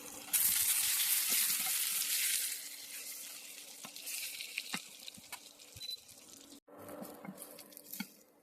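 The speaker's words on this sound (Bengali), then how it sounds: "আলু ভাজা হয়ে গেছে" Potato pieces fry in hot oil, a loud bright sizzle at first that settles into a softer, crackling simmer with occasional stirring clinks, and no talk.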